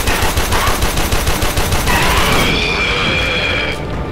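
Rapid automatic rifle gunfire in the video game Warframe, loud close bursts in a fast regular rhythm for about two and a half seconds, followed by a brief high electronic tone.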